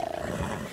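A big cat in Red Dead Redemption 2 lets out a brief, rough roar, loud and nearby, with no voices over it.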